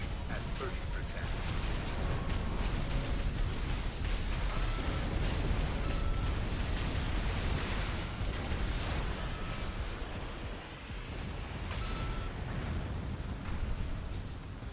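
Pulse cannon fire and explosions from mech combat in Armored Core 6, a dense, continuous roar of bursts and blasts at steady loudness, with speech intermittently underneath.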